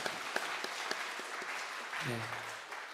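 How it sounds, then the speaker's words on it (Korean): A Sunday church congregation claps to welcome new members, a soft, fairly distant patter of many hands that runs steadily throughout, with a brief voice rising near the end. "먼저 우리 박수로 한번 환영할까요?"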